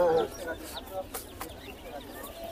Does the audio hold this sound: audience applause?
no